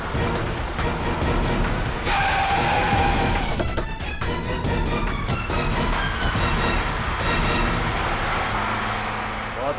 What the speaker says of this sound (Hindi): ये नेहा तो गाड़ी भगाने लगी